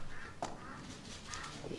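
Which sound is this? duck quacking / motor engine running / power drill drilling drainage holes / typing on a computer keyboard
duck quacking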